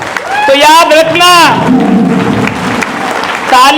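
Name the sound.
audience applause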